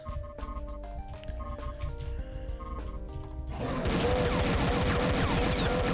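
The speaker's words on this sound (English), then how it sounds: "We got some followers of Benelius, I think, with the pesky shotguns." Gunfire in a Doom mod video game as enemies with shotguns shoot, sharp repeated shots over a game music bed, swelling into a dense, louder barrage of blasts and crashes near the end.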